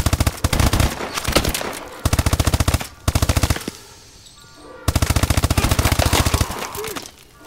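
Rapid automatic gunfire from the Call of Duty Advanced Warfare video game, loud sustained bursts separated by short pauses, repeated several times.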